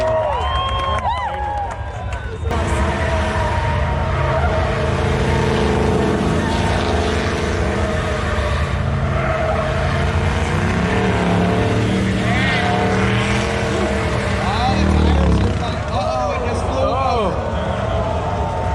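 A loud twin-engine all-wheel-drive Impala race car roars and revs continuously, with a rough, rumbling drone that rises and falls while a crowd and voices sound in the background at an LS Fest event.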